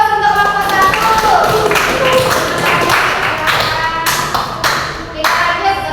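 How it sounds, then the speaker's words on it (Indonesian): Classroom applause for the first student group, a burst of clapping and tapping hands that stays lively throughout and thins toward the end, with voices mixed in. "Kita kasih aplaus untuk kelompok satu."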